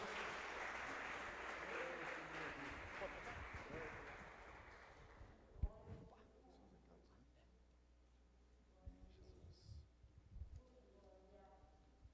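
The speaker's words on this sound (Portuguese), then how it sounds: "Aplauda o Senhor novamente, glorifica o Senhor, amém." A church congregation applauding during a Portuguese-language service; dense clapping fills the first half and then fades out, leaving quiet room noise with scattered talk and small sounds.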